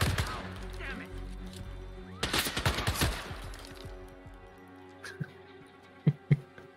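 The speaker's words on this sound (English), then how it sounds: "Automatic rifle now." Automatic rifle gunfire in the video game Hitman 3 comes as a loud, rapid burst in the middle, with a few sharper single thumps later, all over game music.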